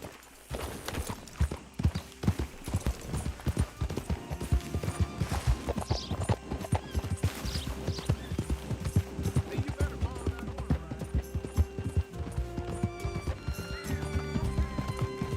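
Rapid horse hooves clop along steadily at a gallop in Red Dead Redemption 2, close and continuous, with a horse whinny and game sounds mixed in.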